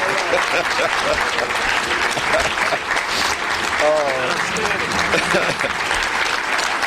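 A breakfast audience stands and claps for basketball coach Geno Auriemma, a dense, continuous applause with voices cheering and calling out through it, holding steady at full volume the whole time.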